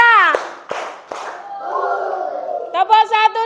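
A class of fifth-grade children chants in rhythm and claps, with a few sharp, loud claps between the raised voices of the chant.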